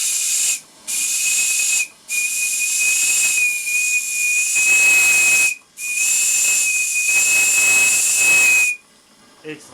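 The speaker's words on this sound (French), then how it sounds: "Et lui qui me crachouille gentiment ma vapeur, même à tout doucement" A model steam tugboat engine lets off loud, close steam in long sustained hissing whistles with a steady high tone. Several bursts are broken by brief gaps, and the last one ends in a short puff.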